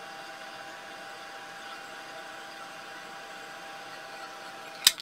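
A heat tool blows a steady, even stream of warm air over puffy embossing powder, a constant whooshing hum with a brief knock near the end.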